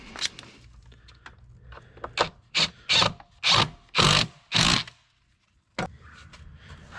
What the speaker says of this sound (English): So let's get this other screw in.